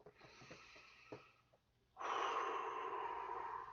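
A deep cleansing breath released during a stress-relief breathing exercise, with a few quiet breaths first and then a long, steady airy exhale that sounds close.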